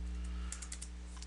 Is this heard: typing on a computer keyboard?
yes